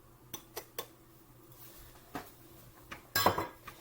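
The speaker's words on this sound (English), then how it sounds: "And mix the rest of it in." Batter for apple bread being mixed as the last of the flour goes in, with a few scattered clinks of a utensil against a bowl and a louder scraping burst near the end, fairly close and without talk.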